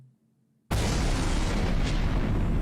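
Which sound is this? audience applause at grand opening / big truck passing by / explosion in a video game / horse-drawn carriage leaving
explosion in a video game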